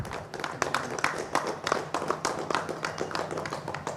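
A group of people claps hands steadily during a Sri Chakra installation ceremony, a dense run of sharp, fairly close claps continuing for several seconds over a low room hum.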